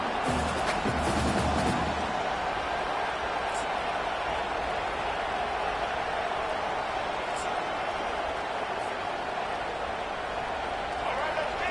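Broad, steady roar of a packed stadium crowd in a college football video game, sustained throughout, with a commentator speaking over it.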